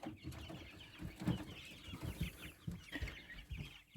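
Chicks clucking and chirping in a steady chatter, fairly close by, in an unheated veranda, with no one talking.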